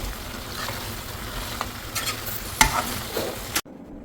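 Chicken with curry leaves and coriander frying in a pan while being stirred, a steady low sizzle with scraping spoon strokes and a few louder clanks, cut off abruptly near the end.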